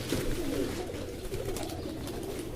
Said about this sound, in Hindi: तो बाकी दोस्तों यहाँ से हम 3-4 कबूतरों को बाहर ऊपर चढ़ाते हैं जी, ताकि ये गुज्जर साहब जो हैं वो मतलब बैठे